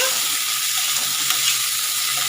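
Chillies, tomato, ginger, garlic and onion fry together in a pan with a dense, steady hiss of hot oil, close and loud, with faint stirring underneath.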